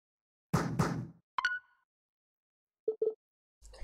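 Two dull knocks on a door inside a video game, followed after a pause by brief chimes and a quick double tap, set against near silence.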